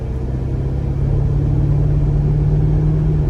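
A 1998 C5 Corvette accelerating, heard from the driver's seat: a deep, steady engine drone with a strong low hum that swells slightly louder as it pulls, loud and close without talk.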